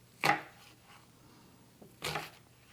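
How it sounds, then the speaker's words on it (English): Two sharp knife chops through an onion on a cutting board, cutting it into four pieces for a traditional Iranian meat stew, close and clear with a short quiet gap between strokes. "Cut the onion in 4 pieces."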